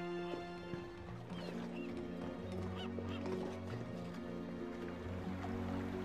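Birds honking in the Harry Potter Order of the Phoenix video game, goose-like calls over a busy layer of game ambience and music, fairly faint and continuous.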